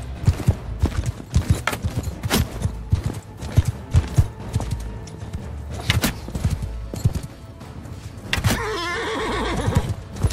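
Horse hooves galloping in the medieval battle game Bannerlord, a dense, steady clatter of many hoofbeats among battle noise, with a horse whinny near the end and no talk.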